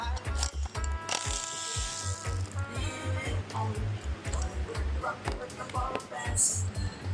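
Ratchet wrench loosening a bolt during an engine rebuild of a Stihl MS271 chainsaw, heard as a run of close, rapid clicking ticks in bursts over several seconds with low mechanical clunks.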